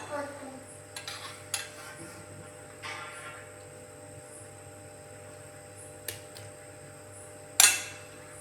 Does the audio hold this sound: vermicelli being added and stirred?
yes